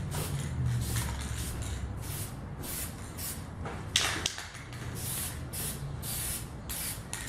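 Aerosol can spraying black paint onto ceramics in short, repeated hissing bursts of a second or so each, close and moderately loud, with small handling knocks between them.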